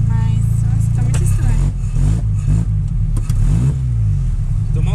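A Chevette engine at a car meet revs hard and sputters with uneven bursts, loud and close, while people talk nearby.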